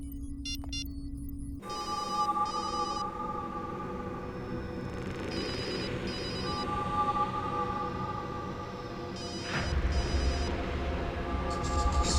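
A telephone rings again and again on a call that goes unanswered. Short repeating electronic ring bursts sound over a low steady hum, with no one speaking.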